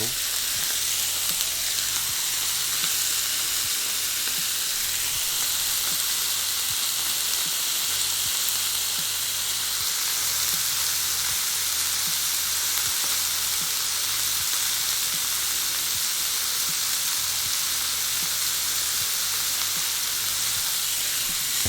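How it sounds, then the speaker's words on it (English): Black pepper pork sizzling and frying in a pan, a loud, continuous crackling hiss with occasional stirring, steady throughout with no speech over it. "Can you hear that sizzle?"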